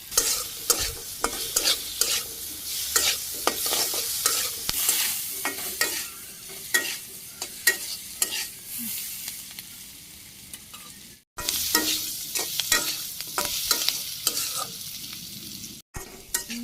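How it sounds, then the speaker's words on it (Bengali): Potatoes with salt, turmeric, chili powder and green chilies being stirred and sautéed in a pan, with a continuous sizzle and repeated scraping strokes of a utensil, close and steady, briefly breaking off twice. "আলুগুলো কষিয়ে দিয়েছি, কষানো হয়ে গেছে"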